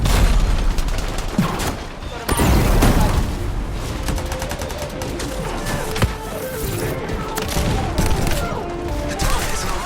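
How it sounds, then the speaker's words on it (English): Heavy gunfire and explosions in the sci-fi shooter Anthem, a loud continuous barrage of rapid shots and booming blasts layered over game sound, with occasional voices in the mix. "You're under heavy fire!"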